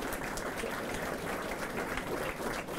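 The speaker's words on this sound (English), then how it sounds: "Can we give them a round of applause?" An audience applauding at the grand opening of an aquatic center: steady, fairly faint clapping that carries on without a break for the whole stretch.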